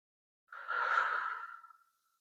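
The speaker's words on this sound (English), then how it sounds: "take some deep belly breaths into your lower abdomen" A single deep, slow belly breath taken while lying on the back with legs spread slightly wider than hip width, heard as one soft, close, airy exhale lasting about a second and a half, alone with no talking.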